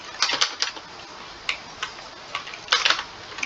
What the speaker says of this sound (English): I can't really mute the keyboard sounds